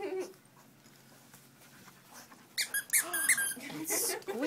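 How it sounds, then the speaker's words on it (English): A dog plays with a squeaky toy, giving several sharp squeaks toward the end amid soft panting and whimpers, after a quieter stretch of light rustling. "A squeaky toy."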